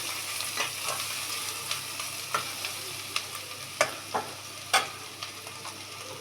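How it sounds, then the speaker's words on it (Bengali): Garlic and ginger frying lightly in butter in a pan, with a gentle continuous sizzle and repeated sharp spatula scrapes and taps as the mixture is stirred, close by and free of speech. "এটাকে একটুখানি হালকা ভাজা ভাজা করব।"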